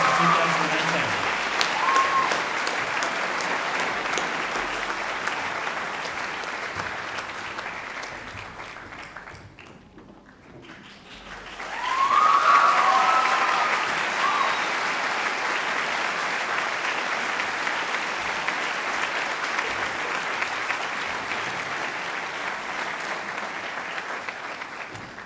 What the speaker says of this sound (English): can we have a round of applause for our last graduates for the class of 2018?